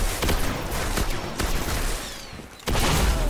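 Shotgun blasts in the Destiny video game: several loud, close booming shots spaced irregularly, with a heavy blast near the end and no talk.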